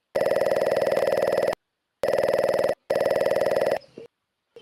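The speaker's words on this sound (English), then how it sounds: "I think you're getting a phone call." Telephone bell ringing loudly in three bursts separated by short pauses, the last burst cut off and followed by faint handling noise, with no talk.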